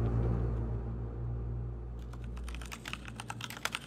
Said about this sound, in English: furiously typing at her beat-up laptop